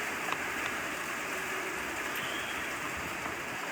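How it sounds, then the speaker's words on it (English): Steady rain falls in an outdoor setting, a dense, even hiss with faint patters of drops, holding constant throughout with no voices. "it started to rain"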